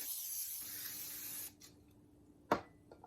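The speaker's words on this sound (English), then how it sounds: "I always throw a little extra butter spray" Butter cooking spray hisses from a can into a pan in one sustained burst of about a second and a half, followed by quiet and a single sharp knock.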